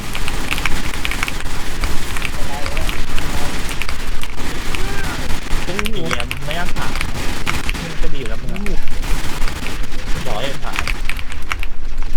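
Gunfire in a PVP round of the shooter game WarZ: dense, continuous bursts of shots and booms under excited talking throughout.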